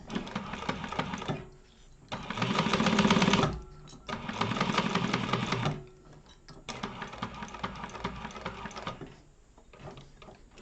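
A sewing machine runs in bursts, back stitching a wallet 3/8 inch from the edge along the top short side, its rapid mechanical whir starting and stopping in four or five close, steady runs with brief pauses between.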